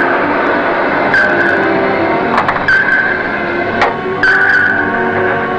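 High-speed propeller screws of three approaching destroyers, picked up over a submarine's sonar speaker: a steady, loud churning drone with a faint whining tone that swells and fades, alone without voices.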